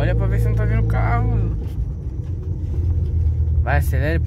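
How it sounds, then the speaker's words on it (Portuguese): A car engine rumbles and revs as the car accelerates during driving, heard from inside the car and close by. People talk over the engine at the start and again near the end. "Vai, acelera e põe terceira."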